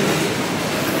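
A Eurostar train at London's St Pancras station produces a loud, continuous rail rumble with a dense mechanical roar and no pauses.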